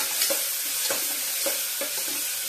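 Sliced tomato and onion fry with mustard seeds in hot oil for tomato bath, a continuous bright sizzle with a few soft stirring knocks at regular intervals, up close and with no voices.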